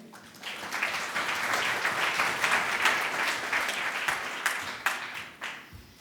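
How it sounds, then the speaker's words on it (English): An audience applauds steadily for several seconds, the clapping swelling slightly and then thinning near the end. "Round of applause for Josh Cormie."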